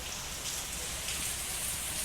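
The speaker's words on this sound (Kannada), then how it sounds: "ಜೋರೈತೆ ಮಳೆ, ಸಿಕ್ಕಾಪಟ್ಟಿ ಜೋರೈತೆ" Heavy downpour outside, a constant close wash of raindrops drumming on surfaces, unbroken and fairly loud for the whole moment with no talking.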